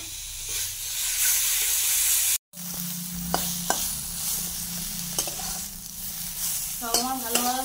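Young eggplant frying with shiuli leaf paste in a pan, a loud steady sizzle with stirring scrapes and a brief break midway, heard close up with no talk.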